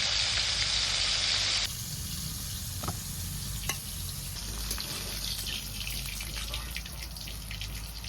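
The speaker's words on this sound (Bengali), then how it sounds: "মাছটা ভাজা হয়ে গেছে তুলে নিচ্ছি" Rohu fish frying in oil in a home Bengali kitchen: a loud hissing sizzle at first, then a steadier, softer crackle with scattered pops and small clinks throughout.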